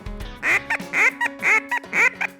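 A duck call imitates a bouncing hen with a series of loud, nasal quacks in an uneven bouncing rhythm, about eight notes close up with short gaps.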